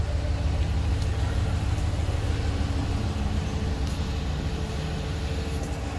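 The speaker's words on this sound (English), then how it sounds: "Got a Hemi, so it sounds great." A 2016 Dodge Ram Sport pickup with a Hemi V8 idling, a steady low engine rumble that holds constant and close with no talk.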